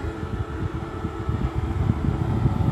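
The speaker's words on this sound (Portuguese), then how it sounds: "Nosso mini ar condicionado." A mini portable water-misting air conditioner fan runs inside a car, giving a steady low whirring hum that stays even and close throughout, with no voices.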